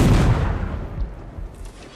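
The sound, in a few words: small cannon firing in a video game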